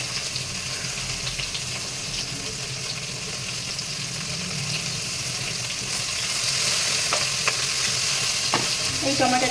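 Chopped onion and tomato sizzle steadily in a hot pan for a fish and cucumber curry, with continuous frying hiss and scraping stirring strokes close up, growing slightly louder toward the end.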